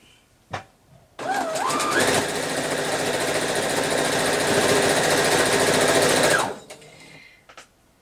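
A sewing machine stitches straight edges of fabric pieces together in one steady, fast whirring run of about five seconds, starting and stopping cleanly, close by and loud with no talking.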